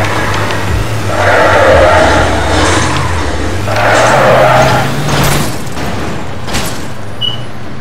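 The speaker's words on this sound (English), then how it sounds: "I just destroyed my car." A car crashes and is wrecked in the Roblox game Car Crushers 2, with loud booming impacts and crunching bursts over a low engine drone, followed by sharper metallic hits.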